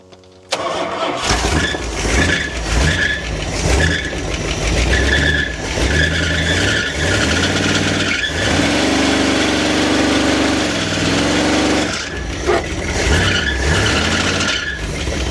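A 1977 second-generation Dodge van engine, unrun for 20 years and fed fuel into the carburetor, cranks and catches, then runs loud and rough nearby with surging revs and a squealing belt.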